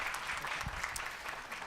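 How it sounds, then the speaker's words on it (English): Applause from an audience at a real estate wealth-building seminar, steady clapping from a seated crowd lasting under two seconds at moderate volume. "Let's give them a round of applause."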